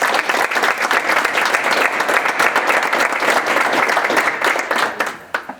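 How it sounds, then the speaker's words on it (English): A school board meeting audience gives students a round of applause, dense and steady clapping from a crowd held at full strength before tapering off at the end. "I'm hoping we can get a round of applause"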